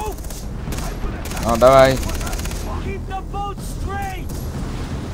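Gunfire in the video game Far Cry 3, with a burst of rapid shots and bursts of weapon fire heard under someone speaking and game sounds.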